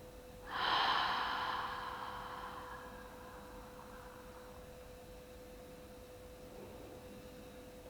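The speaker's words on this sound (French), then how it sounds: "Inspirez par le nez. Le ventre se gonfle, les côtes s'écartent, la poitrine se soulève. Expirez par la bouche." A slow, soft exhalation through the mouth during a yoga breathing exercise, rising quickly into a breathy rush and then fading gradually over several seconds against a faint steady hum.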